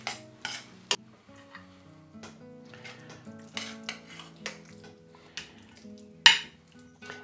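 Creamy risotto with fresh Scottish mussels being given a final stir in a pan, with occasional scrapes and clinks of the utensil against the pan over a faint sizzle, fairly quiet and close.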